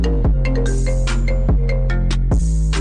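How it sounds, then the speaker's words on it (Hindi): A melodic phone ringtone plays loud and alone, a looping sequence of bright synthetic tones with sharp attacks repeating in a steady rhythm. "नीतीश कुमार, आपका फोन बज रहा है।"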